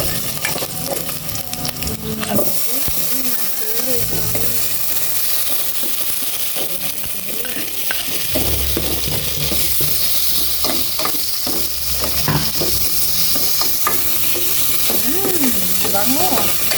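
Ginger fries in a hot pan while a utensil stirs it, with repeated scraping strokes over a loud, steady sizzle that runs the whole time.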